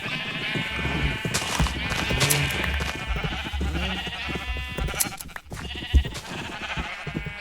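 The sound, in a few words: sheep bleating in the video game Minecraft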